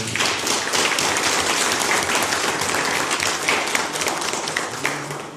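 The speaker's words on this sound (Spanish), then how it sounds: "Un aplauso para ella, por favor." Steady, dense applause from an audience, loud and continuous throughout with many hands clapping at once.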